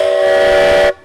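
A Virginia & Truckee Railroad steam locomotive whistle sounds one long, steady, loud blast of about a second, then cuts off sharply.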